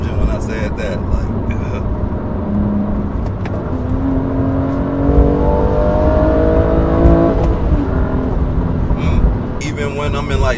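A BMW M2 Competition accelerating hard, engine revving up through a rising whine and shifting, with loud road and cabin noise throughout.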